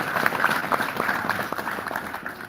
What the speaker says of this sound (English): Please give him a round of applause one more time